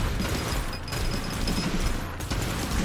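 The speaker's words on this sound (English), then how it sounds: "Shoots 3 relatively powerful bullets." Gunfire from a weapon in the NeuroSquad video game, loud continuous rapid shots packed densely together amid a busy horde battle, with no distinct pause between bursts.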